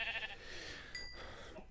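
Minecraft sheep giving a short, faint bleat at the start, followed by quiet game ambience with a brief tonal chime near the middle.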